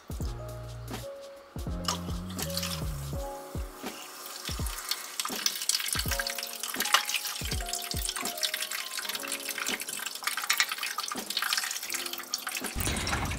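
Vinegar poured from a one-quart bottle into a bowl to clean an Aerogarden Harvest, a steady close splashing stream with gurgles and glugs from the bottle, no talking.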